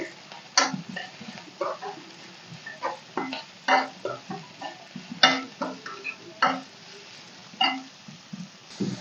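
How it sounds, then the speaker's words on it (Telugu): Chicken fried rice ingredients, vegetables lightly frying with a pinch of salt, being stirred in a pan: a string of sharp, close scraping and clattering strokes at an uneven rhythm over a low, quiet sizzle. "ఒకసారి బాగా కలుపుకుందామండి"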